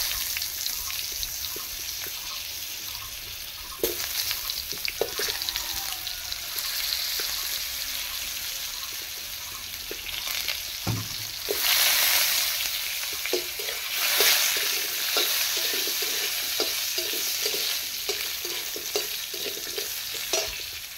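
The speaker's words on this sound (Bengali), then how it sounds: "ভাজা হয়ে গেছে মশলাটা। আমি এটাতে আলুগুলো দিয়ে দেবো" Potatoes frying in spice paste for a vegetarian pumpkin chhokka sizzle in a pan under frequent stirring and scraping strokes, and the hiss swells into a louder burst about halfway through.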